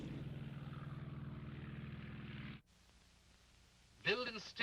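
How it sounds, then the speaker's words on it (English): A World War II de Havilland Mosquito twin-engine aircraft drones steadily with a throbbing pulse for a few seconds, then cuts away to quieter sounds. "The plane the intruders used was the best the Allies had, the Mosquito."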